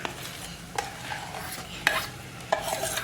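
A spoon scrapes and stirs mashed roasted eggplant mixture in a pan over a low hiss, with three sharper strokes standing out; no one speaks.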